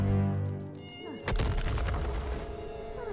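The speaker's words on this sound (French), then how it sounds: "Va lui bourdonner dans les oreilles" Cartoon insect buzzing, a sustained whiny drone with shifting pitch that swells after a sudden thump partway through, close and fairly loud with no talking.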